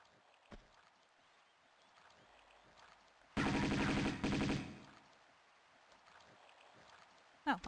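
Gunfire in the video game Tomb Raider: a dense burst of rapid shots for over a second, loud and close, set against quiet background ambience with a few isolated clicks.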